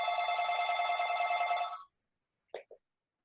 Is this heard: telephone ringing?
yes